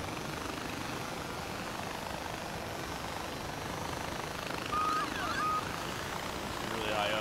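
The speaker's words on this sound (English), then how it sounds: "This plane keeps, like, wanting to go crazy." A plane engine in Far Cry 4 drones steadily in a low, propeller-like hum underneath game audio, with brief chirping effects near the end.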